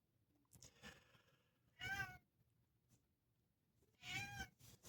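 A cat meows twice, about two seconds apart. Both calls are close and clear over faint low background noise.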